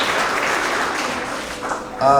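Audience applause at a K–2 spring school award assembly, steady clapping from the crowd that tapers off before a voice begins speaking near the end.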